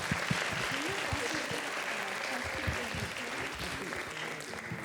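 Applause from an audience at the close of an International Women's Day panel discussion, a dense, steady wash of many hands clapping that holds evenly through the whole stretch.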